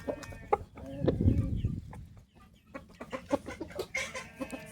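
Saigon chickens, hens with their chicks, cluck in a coop, close and intermittent with soft calls and rustling, plus a brief muffled voice in the background.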